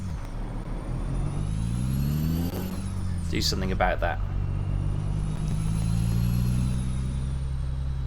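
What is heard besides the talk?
noisy truck engine while driving through Arizona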